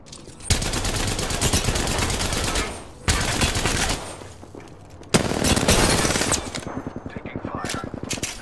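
Dense bursts of automatic gunfire in a battle royale video game, rapid rattling volleys that stop and restart several times, loud and close throughout.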